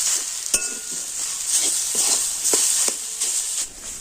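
Snack ingredients being mixed with chaat masala and Maggi masala in a bowl, soft steady stirring and scraping with a few sharp clinks of a spoon against the dish, close and continuous with no talking.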